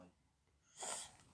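A woman gives one short, faint sneeze, a quick breathy burst in an otherwise quiet room.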